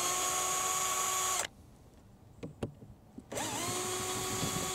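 A power screwdriver whirs steadily while unscrewing the lid of a wooden bird nest box in a garden in late autumn, with a long loud run, a pause with a few clicks, then a second sustained run.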